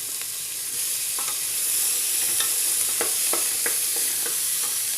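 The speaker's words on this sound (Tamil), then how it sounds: "இப்போ இந்த இதுலேயும் இந்த தக்காளியும் கூடவே போட்டுடலாம், எங்களுக்கு சீக்கிரமாக வெந்துடும் தக்காளியும்." Onions and tomatoes sauté in a hot pan for mutton kothu kari, a steady close sizzle with soft scraping stirs and occasional spatter pops, no voices.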